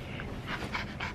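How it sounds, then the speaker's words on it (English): A puppy pants rapidly up close in quick, breathy huffs, a short rhythmic burst of about four audible breaths. "Look at how cute this puppy is"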